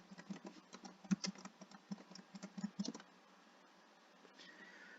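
Fingers tap a computer keyboard in quick irregular bursts for about three seconds, close and fairly quiet, then the keys stop and only faint room tone remains.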